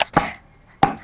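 Jaggery is chopped into small pieces with two sharp, close knife chops spaced under a second apart, each a crisp thud on a board.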